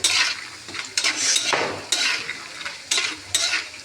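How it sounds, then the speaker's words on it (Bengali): Lentil dumplings (bori) fry in a pan while a utensil stirs them, giving repeated scraping strokes every half second or so over a soft sizzle, close and clear with no talk. "বড়িটা বেশ ভালোভাবে ভাজা হয়ে যাচ্ছে"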